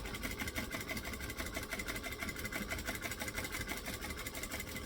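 A sewing machine top-stitches fabric with a rapid, even mechanical chatter, running steadily at moderate volume close by with no talking.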